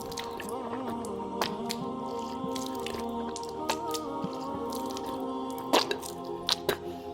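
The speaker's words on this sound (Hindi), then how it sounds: "ये 3 मरतबा हमने कुल्ली करी, ये सुन्नत के मुताबिक है।" Wet dripping and squishy sounds of a mouth being rinsed with water, with small splashes, close up and fairly quiet, continuing steadily with a few sharper drips near the end.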